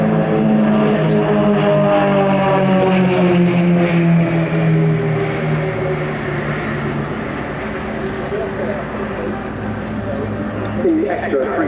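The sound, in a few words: Extra 330LX aerobatic aircraft engine during display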